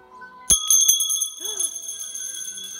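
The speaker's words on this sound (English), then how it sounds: "found your chime." Cockatoo's toy chime ringing with a bright metallic strike, then a few lighter jingles that ring on and slowly fade, with a brief bird squawk partway through.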